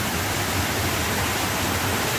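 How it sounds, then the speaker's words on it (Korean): Clear mountain valley stream in Gangwon-do, with water rushing and splashing continuously at close range as a steady broadband wash, no voices over it. "오늘 이 시원한 물소리"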